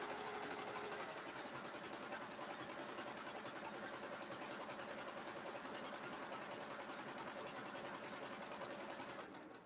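A sewing machine runs steadily while stitching a quilt block for a summer sampler, its rapid mechanical chatter continuous and even for several seconds before slowing at the end.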